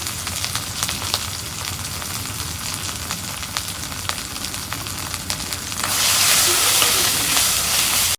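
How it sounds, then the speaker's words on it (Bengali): Spices such as green chili paste, salt and turmeric fry in oil in a pan while being stirred, a steady close sizzle with scraping touches that swells louder and hissier near the end. "মশলাগুলা তেলের মধ্যে ভাজা হয়েছে"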